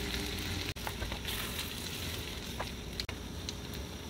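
Vegetables, tomato and meats for frijoles charros sizzling in a pan, a dense, continuous crackling fry at low level, with two brief dropouts in the sound.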